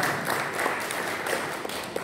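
Congregation at a Sunday church service applauding, a dense steady wash of many hands clapping together, loud and continuous throughout.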